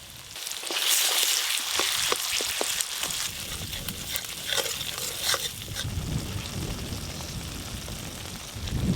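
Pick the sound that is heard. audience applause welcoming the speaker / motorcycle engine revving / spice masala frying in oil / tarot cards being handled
spice masala frying in oil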